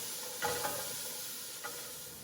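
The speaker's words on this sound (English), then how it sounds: "I'm going to add in my garlic. Let's just stir that around." Garlic is stirred into onions and carrots cooking in a pot for a fall vegetable stew, giving a soft, constant sizzle broken by three faint scraping strokes of the spoon.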